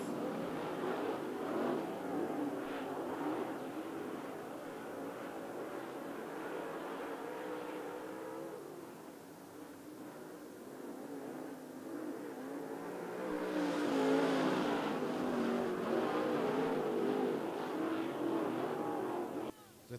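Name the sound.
SWDRA late model race cars racing on a speedway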